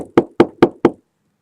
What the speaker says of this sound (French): Et il tape comme ça à la porte.